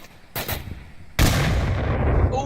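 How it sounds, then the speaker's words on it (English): Gunfire in the VR shooter Onward, with a short crack of shots early on, then a sudden loud blast at about one second in, like a grenade going off, and a rumbling roar that carries on to the end. "Ooh, grenade."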